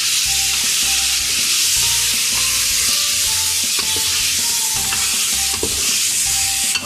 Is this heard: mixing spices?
yes